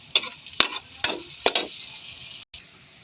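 Butter and cubed meat fry in a pan with a soft continuous sizzle, punctuated by four sharp scraping stirs spaced about half a second apart, close and moderately loud.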